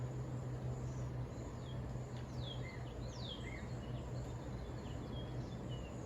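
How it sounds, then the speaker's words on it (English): Outdoors in a breeze, a few birds give thin chirps and brief sweeping whistles over a steady hum and rushing background noise, the calls faint and somewhat distant. "find joy in the sound of the breeze, in the sound of the birds"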